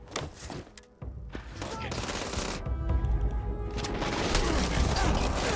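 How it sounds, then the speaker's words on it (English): Heavy gunfire in the space-exploration shooter Starfield, a dense, sustained burst of shots and impacts building louder toward the end, with a brief spoken word early on. "We're in a massive gunfight."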